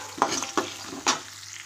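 Large onions fry in a pan with seasoning, three distinct scraping stirs cutting through a soft, steady sizzle, close by and without any speech.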